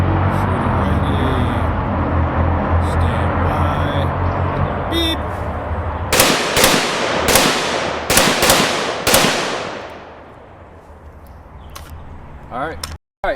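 AR-15 rifle fitted with a SureFire Warden fires a Mozambique drill at a target a few yards away outdoors, five sharp loud cracks in quick succession, two pairs then a single, over a steady background hiss.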